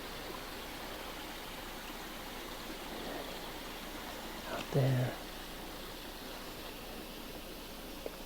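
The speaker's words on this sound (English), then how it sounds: "I thought I'd let you hear that nice, cool, refreshing water." Small creek running in sunny outdoor woodland, a steady, soft rush of flowing water throughout, with a brief muffled knock and a voice speaking a couple of words partway through.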